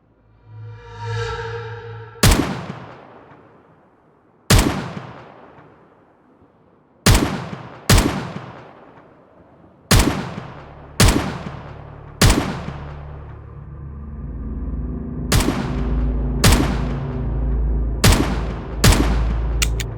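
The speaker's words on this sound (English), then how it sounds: "Shots from the rifle are loud and attracts any nearby infected to the scene." Rifle shots ring out in the Project Zomboid video game, about a dozen loud, sharp reports spaced a second or two apart. Each one leaves a decaying tail, and a low rumbling ambience builds beneath them toward the end.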